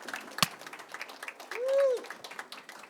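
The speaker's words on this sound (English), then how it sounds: "Now, can we clap actually?" At a marketing talk, a conference audience claps in a brief, scattered burst, faint and distant beneath a speaker's voice.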